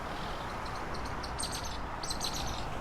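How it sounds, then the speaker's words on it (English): Birds chirp in short, repeated calls by a rocky shore, fairly faint and intermittent over a constant wash of wind and water noise. "Now you can hear the birds."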